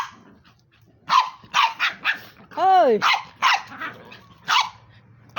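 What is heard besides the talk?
dog barking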